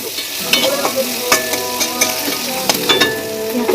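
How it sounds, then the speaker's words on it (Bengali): Onion sizzles steadily in hot oil while a spoon stirs and scrapes the pan in irregular strokes, a close, busy frying sound alone without speech. "পেঁয়াজটা দিয়ে ভাজা ভাজা করছি"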